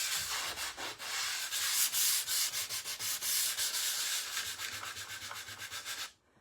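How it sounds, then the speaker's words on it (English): Steady dry sanding of a craft piece decorated with a rub-on transfer, a continuous scratchy abrasion in quick repeated strokes, close and fairly loud, stopping abruptly at the end. "So I'm just gonna sand where he was."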